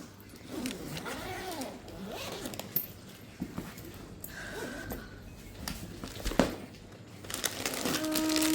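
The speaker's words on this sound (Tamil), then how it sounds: "இப்போ நெக்ஸ்ட் வந்து லாஸ்ட்டாக இந்த சூட்கேஸ் ஓப்பன் பண்ணிடலாம்" A suitcase packed with food for travel from India to Dubai is unzipped and opened: a long zipper pull with rasping strokes, then rustling, crinkling of bags and thumps of the lid, close by, with brief soft talk.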